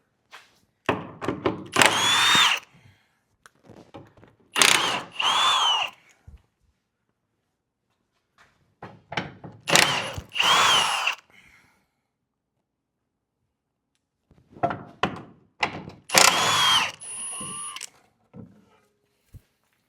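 Power tool driving out the 18 mm bolts on a Jeep JK transfer case skid plate: four separate whirring bursts of a few seconds each, close and loud, with silent pauses between them and small metallic clinks.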